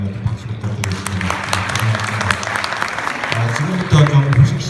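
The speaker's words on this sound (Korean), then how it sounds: "박수 부탁드리겠습니다" An audience at a Korean automotive engineering society conference applauds at the close of a seminar talk: steady, fairly dense clapping with a voice talking over it throughout.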